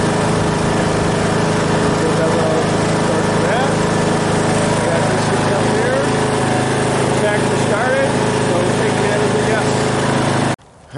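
A farm tractor engine runs steadily and loud for about ten seconds during trail work on freezing ground, a continuous close drone with shifting tones, then cuts off abruptly near the end.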